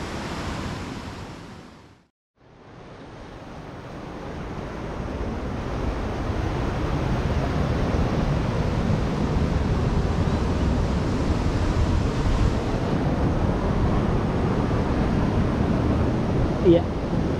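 Steady roar of ocean surf washing in, loud and continuous, with wind across the microphone and no talking, as large waves break on Kalimirah Beach in Wonogiri, Indonesia.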